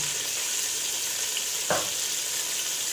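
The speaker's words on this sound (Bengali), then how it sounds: "এবারে আমি এঁচোড়টাকে খুব ভালোভাবে লাল করে একটু ভেজে নেব" Soft, continuous sizzle of young jackfruit pieces frying in oil until browned, with a brief scrape or clatter midway; quiet and close, no talking.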